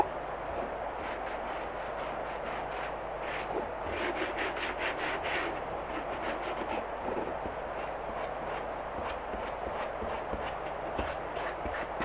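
Steady, close rubbing strokes of sandpaper by hand on a painted decoupage surface, repeating in a quick back-and-forth rhythm at a soft, even level.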